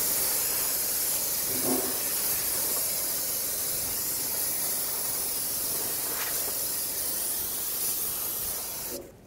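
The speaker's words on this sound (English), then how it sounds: "spray brake parts cleaner all over this area so I can eliminate as much dust as possible" Brake parts cleaner sprayed onto the rear drum brakes of a 2003-2008 Toyota Corolla, a continuous close, loud hissing spray lasting about nine seconds before cutting off abruptly.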